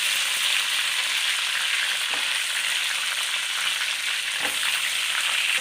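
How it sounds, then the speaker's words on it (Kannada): Small stuffed eggplants frying in oil in a North Karnataka style dish, a steady, fairly loud sizzle with a couple of soft stirring knocks. "ಎಣ್ಣೆಲಿ ಫ್ರೈ ಆಗುತ್ತೆ ತಳ ಹಿಡಿಯದೆ ಇರೋ ಥರ ನೋಡ್ಕೋಬೇಕಾಗುತ್ತೆ"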